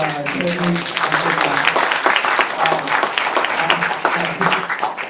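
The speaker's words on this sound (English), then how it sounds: "Please give another round of applause to Tully." Conference audience applause for a speaker, a crowd clapping loudly and densely at close range, with a voice speaking over the clapping near the start.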